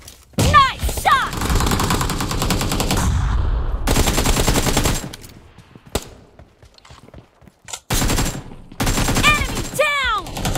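Automatic gunfire in a PUBG Mobile team deathmatch: rapid machine-gun bursts crackle in several long volleys separated by short pauses, with shell-like pings and faint footsteps between them.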